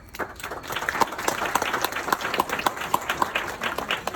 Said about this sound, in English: Give a round of applause one more time for all of our speakers tonight.